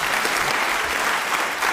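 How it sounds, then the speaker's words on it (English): Studio audience applause on a British radio panel show fills the moment, a steady, dense wash of clapping from a crowd throughout the short stretch. "It deserves a round of applause."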